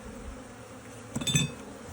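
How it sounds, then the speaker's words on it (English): Honeybees buzz steadily around an open beehive during an inspection, a soft close drone with one bee passing louder near the mic for a moment, and no talking. "You can put it away when there's no more bees on it."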